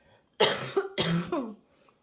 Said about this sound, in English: excuse me, I have to cough one more time.